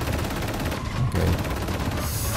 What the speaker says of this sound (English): I can hear shooting